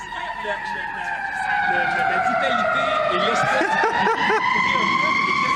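A wailing siren rises and falls continuously at a distance, with traffic noise underneath and a voice talking over it.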